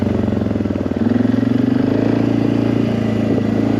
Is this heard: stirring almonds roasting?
no